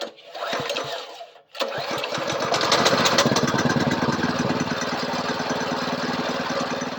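A Predator 224cc engine on a Coleman B200RSV minibike pulls over briefly, pauses, then catches and settles into a loud, steady, close running drone.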